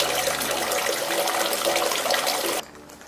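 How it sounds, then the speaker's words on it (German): Water gushes and splashes steadily from a fish-shaped drinking fountain, a close, continuous spatter that cuts off abruptly near the end, leaving quiet background. "Hier ist das Wasser in den Fischen und kommt aus den Fischen raus in den Trinkbrunnen."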